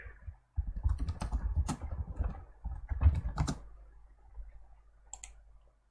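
Quick clicks and clatter from a computer mouse and keyboard, a dense burst of close clicks followed by a few sparser taps while installing Ubuntu.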